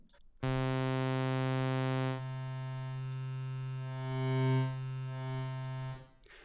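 A Sylenth1 software synthesizer holds a sustained, buzzy, harmonically rich tone through its built-in reverb, steady and loud, then slightly softer with a swelling, before a reverberant tail fades out.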